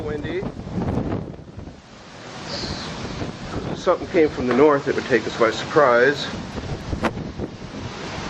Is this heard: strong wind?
yes